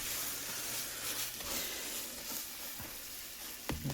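A grilled cheese sandwich sizzles steadily in a hot pan after being flipped and pressed down, a continuous close frying hiss with a brief scrape or tap near the end.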